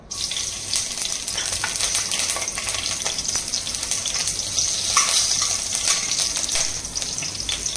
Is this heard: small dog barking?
no